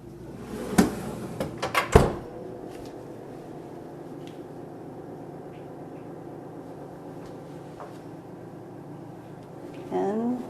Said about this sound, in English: here's what happens when you open the freezer.